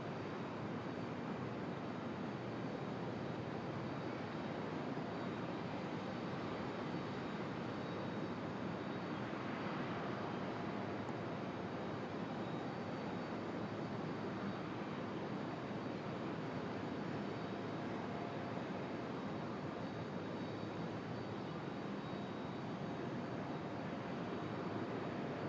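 A jet airliner arriving from Austin at Raleigh-Durham International Airport, a steady broad engine roar that holds loud and even throughout with no talk over it.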